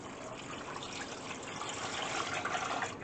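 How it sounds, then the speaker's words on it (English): Water poured into a pot to make corn cob jelly, a steady close splashing and trickling fill with no pauses for a few seconds. "I'm going to add 8 cups of water because 8 cups is 2 quarts"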